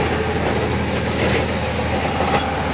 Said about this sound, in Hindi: जैरोवेटर आवाज़ कर रहा है थोड़ी सी